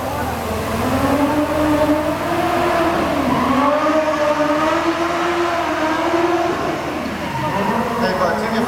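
A stunt car at an outdoor motor show drives out, its engine droning with gliding pitch changes as it revs and moves, loud and fairly close over crowd and announcer noise.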